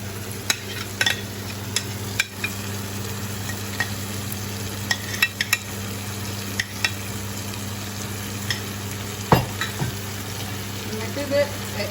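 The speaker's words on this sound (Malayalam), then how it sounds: "ഇനി ഇതിലോട്ട് ഞാൻ ഈ തൈരും ആഡ് ചെയ്യാണ്" Chicken korma sizzling steadily in a pan as yogurt is added and stirred in, with scattered spoon scrapes and clicks over a constant low background hum.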